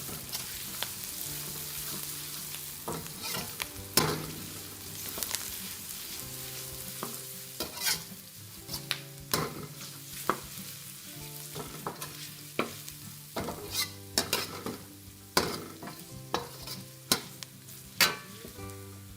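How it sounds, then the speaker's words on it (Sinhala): Chopped onions fry in a pan for string hoppers kottu, a low sizzle under frequent sharp scrapes and knocks of a spatula stirring them, loud and close. "ලුණු ටිකක් වෙලා බෙද ගන්න ඕන"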